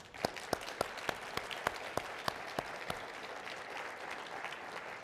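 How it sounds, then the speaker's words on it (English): A conference audience gives a round of applause for the panelists at an urban mobility panel: a few distinct early claps, then dense, moderately quiet clapping from a modest crowd that fades out by the end. "I think we maybe should give them a good round of applause"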